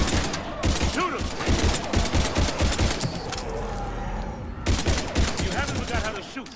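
Rapid bursts of gunfire in a Mass Effect 3 firefight against husks, loud volleys of shots in quick succession, pausing briefly midway before resuming, with voices underneath.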